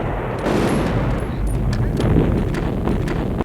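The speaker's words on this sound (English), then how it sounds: "We start the movie with an explosion." An explosion opens the film Rambo: First Blood Part II, heard as a loud, dense crackling roar that holds steady for a few seconds with rumbling low end and scattered sharp bursts.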